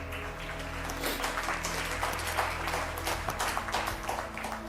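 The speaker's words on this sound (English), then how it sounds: "Only parents clapping." A live audience at a speech by Shah Rukh Khan claps steadily, a dense, continuous patter of many hands heard at a moderate distance without a break.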